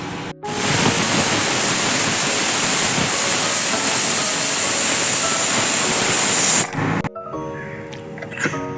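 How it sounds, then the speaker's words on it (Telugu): A pressure cooker with oil-free dal and Malabar spinach releases a loud, continuous hissing jet of steam for about six seconds, then cuts off abruptly, leaving quieter kitchen sounds. "ఒక త్రీ విజిల్స్ వేయించుకుందామండి"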